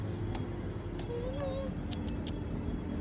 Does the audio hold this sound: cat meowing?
yes